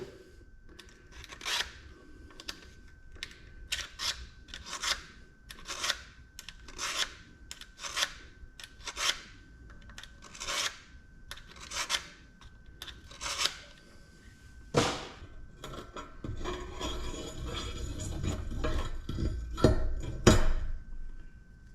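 A kitchen knife is drawn through a small handheld knife sharpener in a series of short, rasping strokes, evenly spaced and close, followed by a longer stretch of rougher scraping and handling noise.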